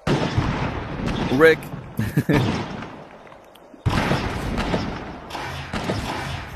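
Booming shotgun blasts and grenade launcher explosions in a Horizon Worlds VR tournament match, heavy bursts in two clusters separated by a brief lull, with a commentator's voice over the action.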